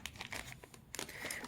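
A plastic bag holding hair clips crinkles as it is handled during the unboxing of a hair brush, giving soft, close rustles and crackles in short bursts.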